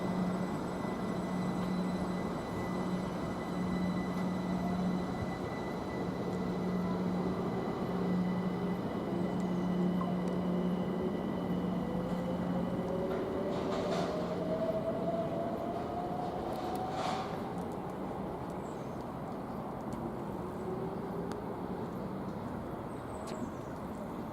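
A Cambridge to London King's Cross train departs Stevenage station at rush hour, a broad continuous rumble with a rising motor whine as it pulls away, steady and moderately loud with no talking.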